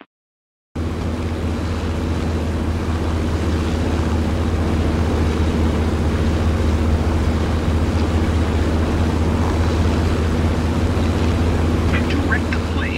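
A fixed-wing aircraft engine in War Thunder drones loudly and steadily throughout after a brief silent start, with constant wind-like rush around it.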